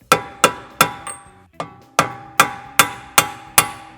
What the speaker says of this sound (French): Marteau, s'il vous plaît. Marteau, ouais, la douille.